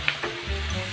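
Seafood sautéing in a hot pan, a steady close sizzle and frying hiss with a light stir at the start.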